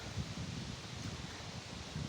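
Wind rising outdoors and buffeting the microphone, a steady broadband rush with soft low rumbling gusts and a leaf-like rustle, fairly loud and continuous.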